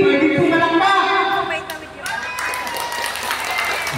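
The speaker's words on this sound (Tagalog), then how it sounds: "Pwede pumalakpak." Audience at a birthday celebration claps for a young dancer, a steady wash of applause with some cheering mixed over music and a loud voice talking above it.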